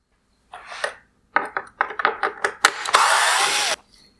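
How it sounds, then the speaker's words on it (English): T20 torx screws are backed out of the wire harness bracket on a 2016-2019 Mercedes-Benz GLS550 OEM LED headlight, with short bursts of close mechanical clicking and ratcheting and then a longer steady whir of a driver. "Next, I will remove the T20 torque screws holding in the wire harness bracket."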